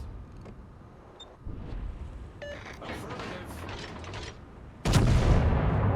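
Warship guns firing in World of Warships during a battle with the Fubuki destroyer, scattered booms and mechanical clatter followed by a loud heavy salvo near the end, with a voice talking over it.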